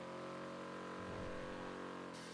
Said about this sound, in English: It's still weird hearing the engine noise